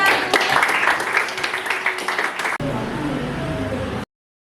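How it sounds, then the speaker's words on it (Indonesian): A school class applauds in a classroom, a busy patter of many small hands clapping at close range with chatter mixed in, then the clapping drops away abruptly to quieter room sound before cutting to silence. "tepuk tangan buat kelas 71"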